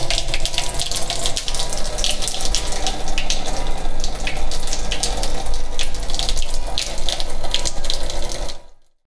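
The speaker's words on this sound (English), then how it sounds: "The full tank is going to drain." Water drains steadily from the full storage tank of an APEC reverse-osmosis water filter system, a loud continuous rushing, splashing stream that runs unbroken and stops abruptly at the end.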